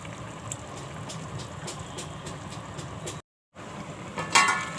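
Two cups of hot water go into a pot of mixed vegetable curry with corn pieces and potatoes, a steady close splashing gurgle that stops for a moment and then returns as louder bubbling.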